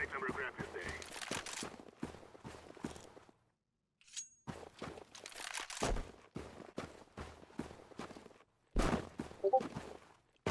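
Rapid bursts of AWP sniper rifle gunfire in a video game crack out in clusters on a winter map, with several sharp shots, brief pauses, and game sounds mixed throughout.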